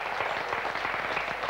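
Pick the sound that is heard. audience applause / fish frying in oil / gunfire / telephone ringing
audience applause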